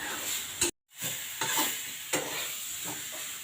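Neem leaves fry in a little oil in a pan, a steady close sizzle broken by a few scraping stirs and one brief pause.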